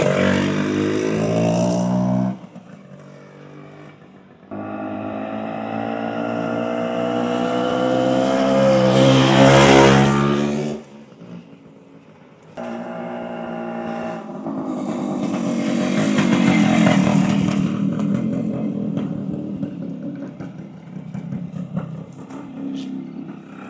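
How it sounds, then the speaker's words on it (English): A 1974 Kawasaki F7 175cc two-stroke Enduro motorcycle runs close by with a buzzy engine note. It revs up and drops back to idle several times, rising to a loud peak before settling. "Another beautiful 175 Enduro Kawasaki."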